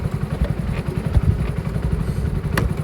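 A stopped motorcycle idles close by with a steady, loud, rapid low putter and faint mechanical clatter, and no one speaking over it.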